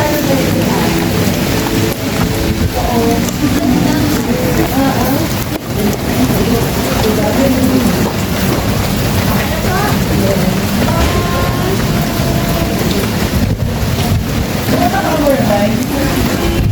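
Steady heavy rain pours down throughout a road trip to Dolores, Quezon, with rumbles of thunder and muffled voices talking beneath the constant downpour.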